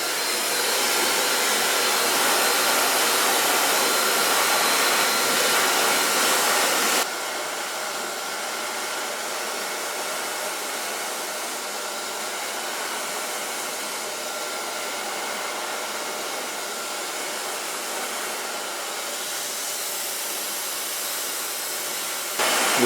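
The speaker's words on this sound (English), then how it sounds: "My latest blow dryer." A hair blow dryer runs continuously with a loud, steady whooshing roar, then drops to a lower setting partway through and keeps droning evenly, close by and alone.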